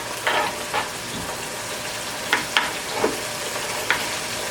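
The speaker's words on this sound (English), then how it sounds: "You can kind of hear it when it stops being such a kind of a loud, boisterous sizzle" Steak searing in a hot pan on the stove, a steady broadband sizzle with a few brief louder crackles and pops scattered through, close and alone without voices.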